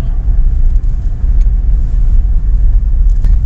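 Toyota Fortuner engine accelerating on the road, a loud, steady low rumble heard from inside the vehicle with no talking.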